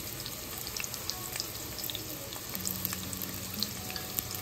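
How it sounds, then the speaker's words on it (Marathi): Thin-sliced white onion sautés in hot oil with a soft, continuous sizzle and crackle at low level, heard alone. "तेलावरती परतून घ्यायचं आहे."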